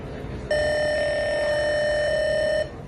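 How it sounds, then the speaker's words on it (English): Electronic tone from a push button in an Arduino circuit simulated in TinkerCAD: a single clean, steady buzzer-like beep lasting about two seconds over faint background hiss. "each push button will play different tone or pitch"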